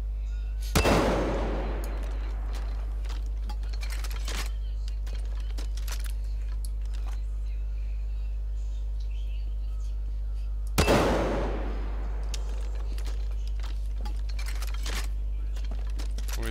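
Two loud weapon blasts ring out in the Far Cry 5 video game, each a sharp crack with a decaying tail, spaced about ten seconds apart over a low steady hum.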